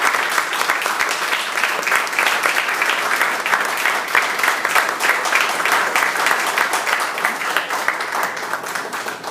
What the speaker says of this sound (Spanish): Así que le damos un aplauso al doctor.